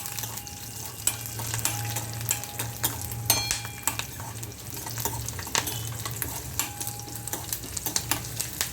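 Mustard and cumin seeds splutter in hot oil for a tempering, giving a continuous close sizzle dotted with sharp pops and crackles throughout, with a faint low hum underneath.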